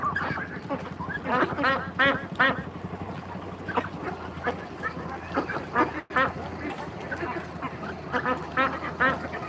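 A crowd of forty-day-old ducks on a duck farm quacks in busy overlapping bursts, loud and near, with a voice talking intermittently among the calls.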